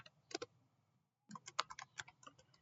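Python code being typed on a computer keyboard: a short burst of key clicks, a pause of near silence, then a denser run of quick, close keystrokes with no talking.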